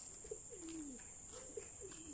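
Caged pigeons or doves coo softly and repeatedly, with low rolling calls set against a faint steady background hiss, quiet and at moderate distance.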